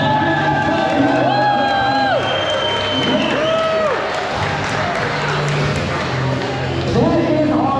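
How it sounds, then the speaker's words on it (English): A crowd at a Harley-Davidson bikini contest in Palm Beach claps, cheers and whoops loudly and steadily, with shouts and voices mixed into the sustained noise. "Give them a round of applause."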